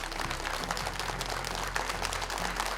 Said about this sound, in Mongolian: Бүгдээрээ халуун алга ташилтаар дахин бүх оролцогчдод баяр хүргэцгээе.